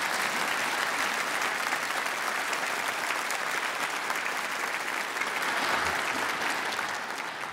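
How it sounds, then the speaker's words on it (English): A studio audience at a radio quiz programme claps in a sustained, even round of applause, full and steady throughout before easing slightly at the end. "we congratulate you with this far from mysterious round of applause"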